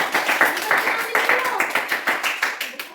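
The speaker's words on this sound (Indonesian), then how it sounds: "Beri tepuk tangan untuk dia." Students in a classroom clap for a classmate during a lesson, a short burst of brisk clapping close by with a teacher's voice talking over it.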